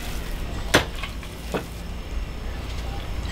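Hamburger steak ingredients with garlic powder mixed in a bowl or pan, two brief close clanks of a utensil over a steady low hiss.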